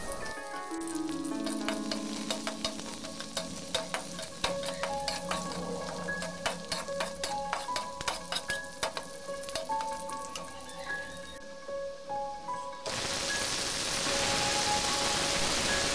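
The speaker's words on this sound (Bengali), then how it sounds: "পেঁয়াজ কাঁচামরিচ ভাজার পরে আমি বেগুন আলুটা ওই তেলের মধ্যে ওগুলোর সাথে আবার ভাজবো ভালো করে।" Onions and green chillies fry in oil in a large kadai, a steady close sizzle broken by frequent clatters of a utensil stirring and scraping. Near the end the crackle swells into a louder, denser hiss.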